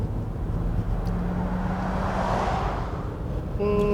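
A 2018 Land Rover Discovery TD6 diesel in luxury trim pulls away, its engine a steady broad drone that swells as it accelerates, close and continuous with no one talking.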